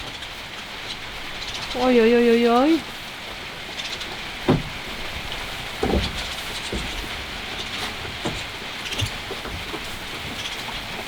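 Steady rain pours outdoors as an even hiss through the whole stretch, while a voice lets out a brief run of exclamations and a few soft knocks sound.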